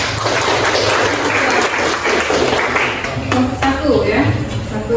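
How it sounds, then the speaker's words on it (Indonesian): Students in a classroom give a round of clapping for a classmate, a moderately loud burst of applause with voices chattering over and around it. "Oke, tepuk tangan untuk Elsa."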